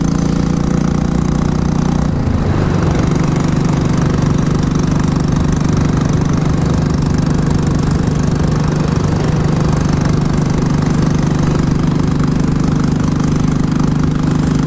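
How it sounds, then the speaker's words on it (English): A Royal Enfield Classic 350 motorcycle idles with a loud, rumbling exhaust, steady and close throughout, its pitch dipping briefly early on. "You probably can hear that the exhaust note has got a bit louder"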